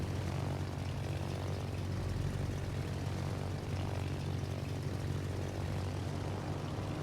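Propeller aircraft engines of attacking planes in the naval combat game World of Warships drone steadily and loudly throughout, a continuous low hum and roar with no pauses and no talk.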